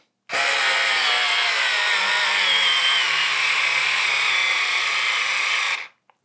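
Fanttik cordless screwdriver on its highest torque setting driving a screw into wood, a loud close motor whine that holds steady for about five seconds and then cuts off abruptly.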